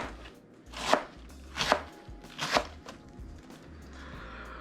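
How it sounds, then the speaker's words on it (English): A knife shreds cabbage on a board in three crisp, evenly spaced chopping strokes, close and clear, with no talking. "So I'm just gonna shred this up kind of fine"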